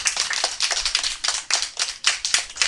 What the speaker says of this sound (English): Let's give Rachel a big clap.